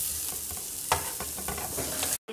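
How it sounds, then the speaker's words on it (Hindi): Red onion sautés in a pan for Schezwan chilli potatoes, with a steady hiss of frying under a few scraping stirs and one sharper clack. The sound cuts out briefly near the end. "प्याज को भी हम थोड़ा सॉटे कर लेंगे।"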